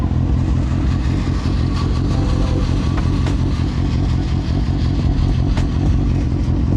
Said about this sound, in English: Why does my bike sound cammed?